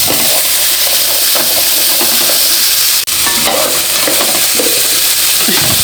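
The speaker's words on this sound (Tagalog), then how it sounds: "Susunod natin ang ating carrots and potato. Ipiprito-prito lang natin siya guys." Carrots and potatoes frying in a pan, a loud, steady sizzle and hiss with stirring and scraping throughout and one brief pause midway.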